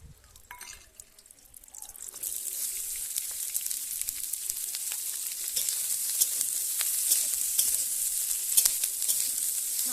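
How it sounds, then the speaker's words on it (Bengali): Peas and onion shoots sizzle steadily in a little hot oil for dal, a bright continuous frying hiss that swells after a quiet start, with faint stirring ticks and no talk. "আমি মটরশুঁটি আর পেঁয়াজের কলিগুলো একটু হালকা ভেজে নেব।"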